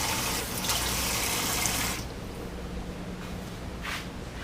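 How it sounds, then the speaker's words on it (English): Water runs and splashes from a tap into a cup for a kitchen kimchi recipe with miso, a steady close pour that cuts off abruptly halfway, followed by faint room noise and a brief second trickle. "I'm going to get some water and just pour water in the cup"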